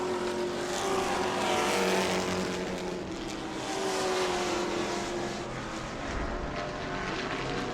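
Race trucks roar at speed around an oval track at New Smyrna, a dense, continuous engine drone that swells and fades slightly as the pack passes, loud and steady without voices.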